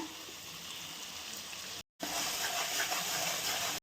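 Chopped onion fries in butter with ginger-garlic paste for pav bhaji, giving a close, even hiss that cuts out briefly and then returns slightly louder.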